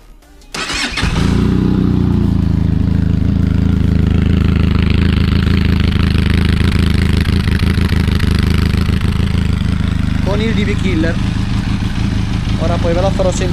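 A motorcycle engine, already warmed up and fitted with a Roadsitalia aftermarket exhaust, starts with a quick crank, then settles into a loud, steady idle that holds close and continuous.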